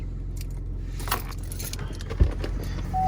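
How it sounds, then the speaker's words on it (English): Keys jangling as they are grabbed, a brief faint metallic rattle and a louder clink near the end, over a steady low rumble of an idling vehicle on a cold windy day. "So I'm gonna grab my key, the keys off this,"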